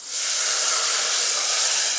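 Moong dal poured into hot oil tempering for moong dal amti, a sudden loud, steady hissing sizzle that holds evenly for about two seconds, close and alone.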